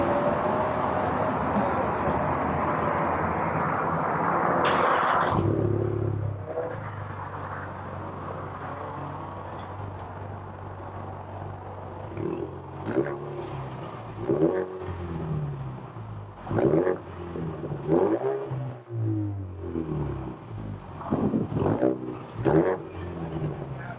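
A 2018 Ford Mustang EcoBoost: a loud whooshing rush gives way to an idle, followed by a series of sharp revving bursts rising and falling near the car.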